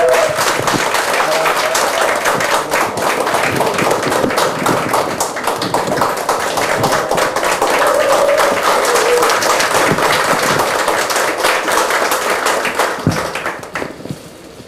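Dense, sustained applause from a crowd at a political party members' convention greets a newly appointed city chapter chairman, filling the room loudly for many seconds before tapering off.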